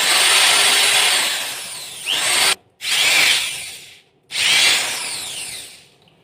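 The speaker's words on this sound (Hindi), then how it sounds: "तो दोस्तों हमने इस ड्रिल मशीन को पावर दे दी है और अब ये काम करने के लिए बिल्कुल रेडी है। आप देख सकते हैं इसकी आवाज़ कुछ ऐसी है।" An Ingco 280W compact corded drill machine running freely, a loud steady high whine in three long bursts separated by brief stops, close by with no talk.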